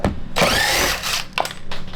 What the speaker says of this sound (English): Having an impact drill is amazing.